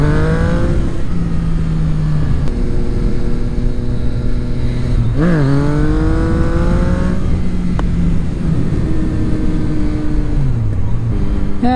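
A motorcycle revs hard while pulling a wheelie, the loud, close engine note climbing and dropping through several gear changes with a quick rev blip in the middle. Faint speech mixes in at times.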